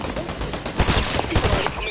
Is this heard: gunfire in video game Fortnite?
yes